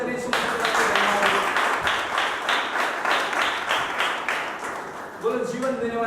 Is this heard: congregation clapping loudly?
yes